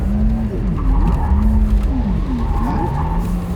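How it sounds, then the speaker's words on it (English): Porsche Taycan electric car drifting, its tires squealing and skidding continuously with wavering pitch as the back end slides, loud and close throughout with no engine roar beneath. "So go off the power, then just get it into a drift."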